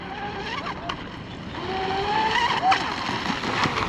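A J&R Marine H26 RC boat running on a 6S battery with a modified hull skims across the water, its motor whining steadily and rising slightly as it passes, with faint voices nearby.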